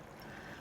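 Lime juice marinade pours over sliced red onions for pickling, a soft, steady liquid trickle heard close and quiet, with no talking.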